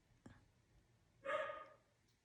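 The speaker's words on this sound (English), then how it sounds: "Can you hear my dog barking?" A single dog bark rings out faintly in the background of a quiet indoor room, followed by a louder, longer yelp or whine about a second later.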